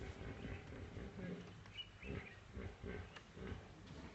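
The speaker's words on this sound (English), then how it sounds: "That is the sound of the hippo." Deep, rhythmic grunting calls from a hippopotamus repeat in a series of pulses, moderately distant across a river over steady outdoor background noise.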